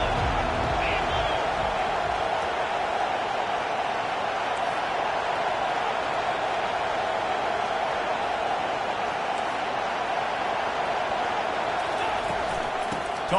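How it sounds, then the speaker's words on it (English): In a football video game, a stadium crowd on third down cheers as a constant loud roar that fills the whole stretch without letting up. "Third down, and this crowd is tearing the lid off this place."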